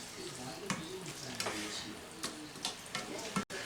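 Taco meat simmers in a pan with a constant soft sizzle, broken by occasional louder clicks and stirring scrapes, heard up close.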